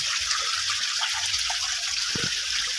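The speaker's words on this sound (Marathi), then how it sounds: "पाण्याचा आवाज येतो मी तुम्हाला" Water trickles and gushes steadily near a fox cave in a village, a continuous broad wash of flow close by with faint low rumbles underneath and no voices.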